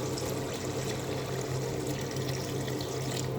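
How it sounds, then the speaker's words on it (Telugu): Water is poured into a pot of mutton curry as it cooks, a steady, unbroken rush of liquid held close and fairly quiet throughout with no voices. "ఇప్పుడు కొద్దిగా వాటర్ పోసుకుందాం"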